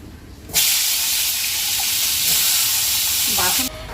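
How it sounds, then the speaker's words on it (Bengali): Papaya pieces fry in white oil in a wok, giving a loud, steady sizzle that starts abruptly and holds for about three seconds before cutting off. "এখন পেঁপেটা একটু ভেজে নেব আর সাদা তেল দিয়ে"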